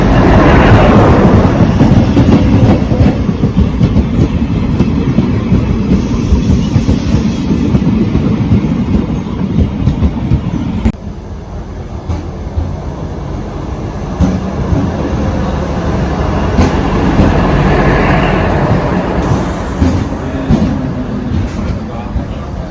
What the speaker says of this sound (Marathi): ये आ चुकी है मॉर्निंग ट्रेन DMU.